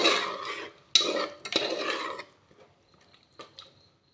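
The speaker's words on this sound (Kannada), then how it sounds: "ಈಗ ಮುಚ್ಚಳ ಮುಚ್ಚಿ ಬೇಯಕ್ಕಿಡುವ" A metal lid clanks onto a pot of butterfly pea flower upma, followed by a couple of scraping, rattling clatters and a few faint knocks as the kitchen goes quiet.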